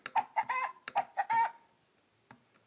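A chicken clucks in a quick series of short, close, loud calls, then goes quiet before one last faint cluck.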